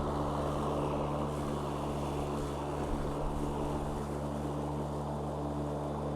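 Craftsman E-150 MTD electric riding mower driving over bumpy ground, giving a steady, continuous motor hum and whine with a low rumble, loud and unbroken throughout with no talking.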